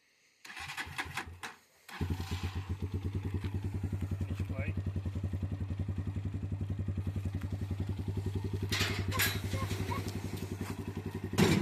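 A small garden power machine, a walk-behind engine unit on a vegetable plot, starts after a brief crank, then settles into a steady, loud, close chugging idle with a fast regular beat that runs to the end, with a few faint clatters and knocks over it.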